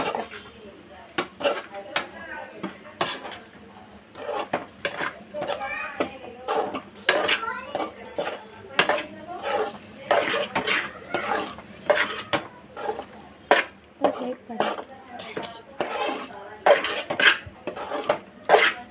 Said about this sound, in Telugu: దీన్ని బాగా మిక్స్ చేసుకోవాలి.